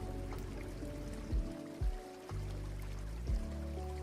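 Steady flowing water of a gentle creek from an ambient relaxation sound app, a continuous trickling wash with a few low thumps breaking in.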